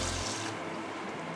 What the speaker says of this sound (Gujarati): અને પાણી નાખી